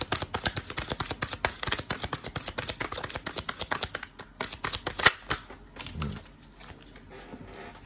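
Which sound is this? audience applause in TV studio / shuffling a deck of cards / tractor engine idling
shuffling a deck of cards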